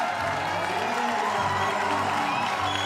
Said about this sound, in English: you can hear the crowd respond as Laura really does her first proper couple of moves of the competition